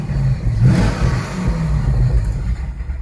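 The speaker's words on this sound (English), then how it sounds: "Let's rev it up and see if we can hear any difference." A C5 Corvette with an exhaust bypass mod on both sides revs up close by, its engine rising into a loud, rumbling burst before holding a steady, throaty drone for the rest of the moment.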